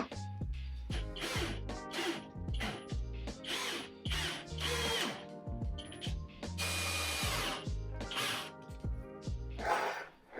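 A power drill drives screws into wood while attaching a piece to a rotten, lead-painted cupboard, sounding as repeated close bursts of whirring and ratcheting with short pauses between them.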